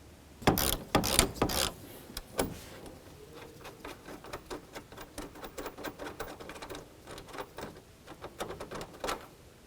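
A hand ratchet clicks rapidly on a 13 mm bolt on the radiator cooling fan assembly of a 2013–2018 Dodge Ram 1500, with a few louder clattering handling knocks first, then a long run of fast, fairly faint clicking.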